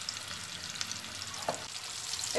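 Meatballs frying in a pan give a steady, close sizzle with a soft crackle, a couple of brief louder pops and a rise in intensity at the very end; no one speaks.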